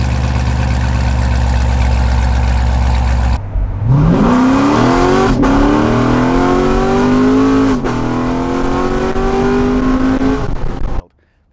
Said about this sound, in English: This car sounds great with the valves wide open